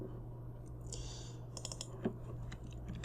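Computer keyboard typing while working in Figma, soft scattered clicks and a few faint keystrokes over a steady low hum, fairly quiet and close.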